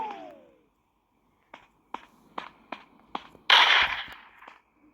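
Gunfire in a Roblox horror game: a rapid run of sharp, close shots cracking in quick succession, ending in a louder, longer blast that fades out, with no talking.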